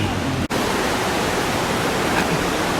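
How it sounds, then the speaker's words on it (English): The Shigar river in flood, a loud, steady roar of rushing water with one very brief dropout near the start and no voices. "As you can see, the river is in flood. This is the Shigar river"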